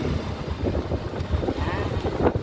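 Strong wind gusting past the microphone in an outdoor setting, a loud buffeting rumble that rises and falls in uneven surges, with faint voices underneath.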